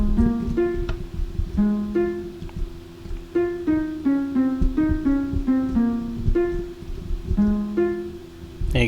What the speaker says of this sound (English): it should sound like this so far